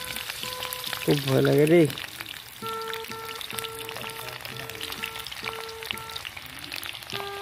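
Onions fry in hot oil for a pork dish, a steady crackling sizzle under background music, with a voice speaking briefly near the start.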